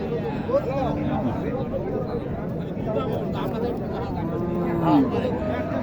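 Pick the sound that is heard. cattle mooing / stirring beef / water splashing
cattle mooing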